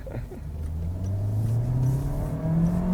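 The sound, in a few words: Volkswagen Santana sedan engine accelerating while driving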